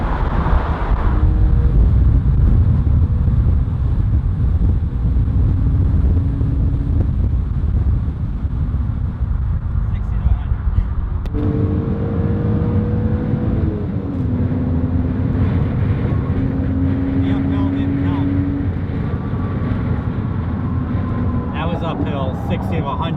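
A 2000 BMW M car accelerates uphill from 60 to 100, its engine a steady loud drone with rising tones under heavy wind rush, and a driver talks over it now and then.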